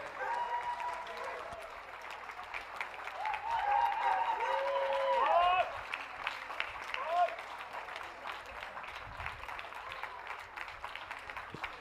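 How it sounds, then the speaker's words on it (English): An audience at a dog show applauds the Gundog group winners, led by a Cocker Spaniel, with steady, sustained clapping from a crowd. A voice talks over the applause, which swells midway and then tapers off. "Can we have a final round of applause for our winners of the Gundog group"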